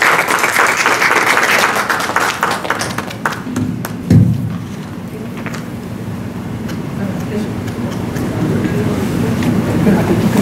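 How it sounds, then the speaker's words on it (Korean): Seminar audience applauding in a lecture hall for an invited speaker, a dense burst of clapping at the start that thins into scattered claps and fades into room noise with a thump midway. "큰 박수로 맞이해 주시기 바랍니다."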